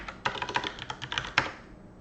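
Fast typing on a computer keyboard while a new file is created and named in a programming session, a quick run of crisp key clicks with one louder keystroke near the end, close and alone without talk.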